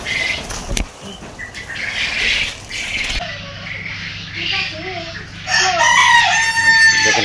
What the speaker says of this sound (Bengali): ক্যামেরা ধরার কারণে কিন্তু ডাকাডাকি করতেছে